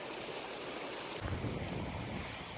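Fox Creek, a mountain creek near Tujunga, California, flows as a steady faint rush of water, and a fuller, lower splash joins in about halfway through, with nobody talking.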